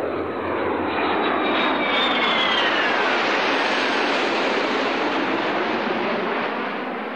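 Engines of a Tu-160 White Swan strategic missile-carrier bomber with swing wings give a loud, continuous jet roar, with a whine that slides downward early on and holds steady throughout, with no talking.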